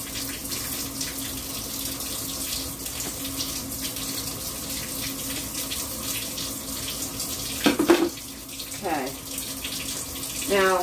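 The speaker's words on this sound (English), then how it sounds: "That's why I've been letting my water run." Hot water runs steadily from a kitchen tap into a sink while bread dough is being prepared, a continuous hiss and splash with a few brief clatters near the end.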